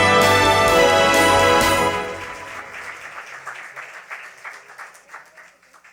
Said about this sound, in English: Let's give them all a round of applause, ladies and gentlemen.